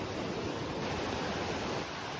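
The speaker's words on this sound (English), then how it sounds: "The stream keeps going and going. Lots of little cascades and step down waterfalls." A forest stream with small cascades and step-down waterfalls, a steady close rush of broadband water noise that holds at an even level throughout.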